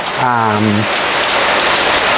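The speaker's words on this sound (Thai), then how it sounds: "ตอนนี้ด้านนอกฝนตกมากนะครับ" Heavy rain pouring outside at a Thai house museum, a loud, dense, steady hiss that fills the whole clip, with a brief voice near the start.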